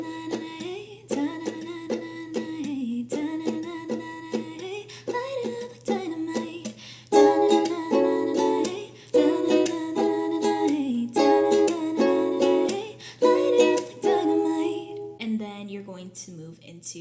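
Ukulele plays the bridge of a song, sung-style melody notes picked over strummed chords in a steady pop rhythm, close and clear with no talking.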